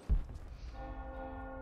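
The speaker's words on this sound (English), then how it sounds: "Bell going off." An alarm bell rings out in the Rise of the Tomb Raider video game, beginning with a sharp struck onset and then holding a sustained, ringing metallic tone that lingers steadily at moderate loudness.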